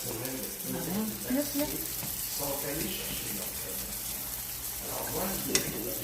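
White mushrooms fry in butter oil in an outdoor garden kitchen with a steady, close crackling sizzle and occasional stirring, while a voice talks faintly underneath.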